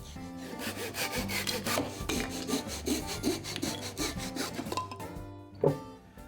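A handsaw cuts off the protruding ends of wooden shims around a fiberglass entry door frame, with steady back-and-forth rasping strokes close by and a sharper knock near the end.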